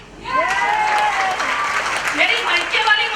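Audience applause breaks out at a motivational speech event, a steady burst of clapping with a voice speaking over it throughout.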